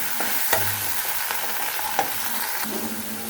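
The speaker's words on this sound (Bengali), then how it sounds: "পেঁয়াজটা ভালোভাবে ভেজে নিব।" Onions frying in a pan are stirred with a utensil, giving a steady close sizzle broken by a few sharp scraping knocks against the pan.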